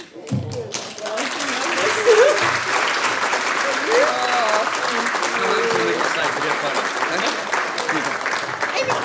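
Guests at a gala dinner give a retirement presentation a loud, sustained round of applause lasting several seconds, with voices and cheers mixed into the clapping.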